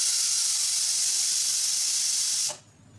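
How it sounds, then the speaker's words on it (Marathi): A pressure cooker on a gas stove lets out a loud, steady hiss of escaping steam that cuts off abruptly near the end, leaving a quiet kitchen. "4 शिट्ट्या झाल्यात, गॅस बंद करायचे."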